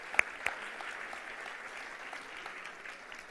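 A church congregation applauds its visitors, a soft, steady patter of many hands filling the room at moderate distance, with a couple of sharper claps standing out at the start.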